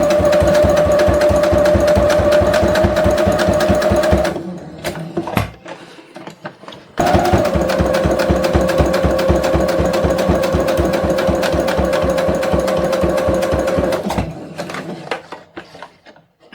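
Sewing machine stitching a pencil and pen holder, loud and close, with a fast rapid-fire needle rattle in two long bursts split by a short pause, then a slowing stop at the end.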